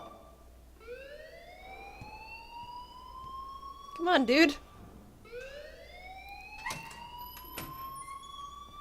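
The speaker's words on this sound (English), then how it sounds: "please turn off that alarm since that's your job" An alarm siren in the video game Life is Strange rises and wails in repeated sweeping cycles, steady and prominent, while someone speaks briefly over it.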